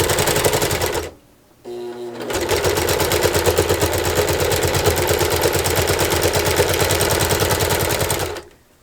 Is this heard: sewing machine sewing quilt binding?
yes